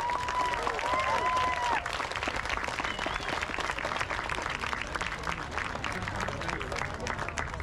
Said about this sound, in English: Let's give them another warm round of applause.